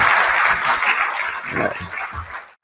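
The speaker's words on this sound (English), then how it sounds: "Can I hear a round of applause?" An audience at a clean energy workforce keynote panel applauds, giving a brief burst of clapping that starts fairly loud and thins out over about two and a half seconds.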